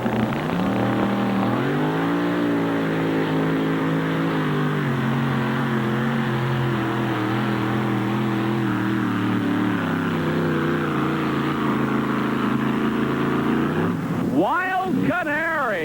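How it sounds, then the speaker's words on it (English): A yellow Chevy S10 pulling truck roars at a steady high rev down the dirt track at a 1988 truck pull in Tomah, Wisconsin, engine loud and sustained throughout, climbing briefly before fading, with an announcer talking over it. "Beautiful yellow S10 Chevy makes a very good run right down the center of the track and was properly weighted"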